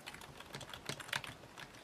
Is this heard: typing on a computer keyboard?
yes